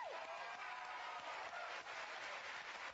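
Studio audience clapping on a daytime talk show set, a steady dense wash of applause filling the room with no breaks and no talking over it.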